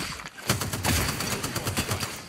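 Rapid automatic gunfire in Apex Legends, a quick string of evenly spaced shots lasting about two seconds, close and moderately loud.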